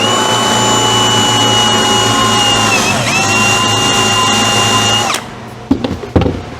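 A power drill bores a bit into a wooden coffee table. Its loud, steady high whine holds for about five seconds, dips briefly midway under load, then spins down, followed by a few light knocks.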